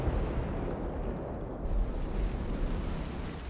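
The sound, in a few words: bomb explosion in a tank video game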